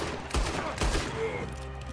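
Gunfire in Red Dead Redemption 2 sounds as two sharp, quick shots about half a second apart over a low, steady game background.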